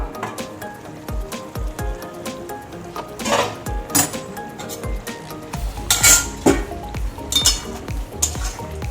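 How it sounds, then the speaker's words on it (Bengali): A lid comes off a cooking pot of simmering eggplant and pumpkin with ridge gourd and stalks, bringing repeated close metallic clanks and clinks of lid and utensil against the pot over a faint sizzle. "ঢাকাটা খুলে নেব"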